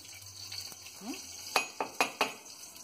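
Ghee heating in a pot with two cardamom pods, with a soft continuous sizzle and light stirring, followed by four sharp metallic clinks of a spoon against the pot near the end.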